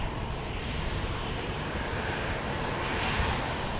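A jet airliner at Dallas Love Field at night, a loud, steady, broad engine roar that holds throughout without pause.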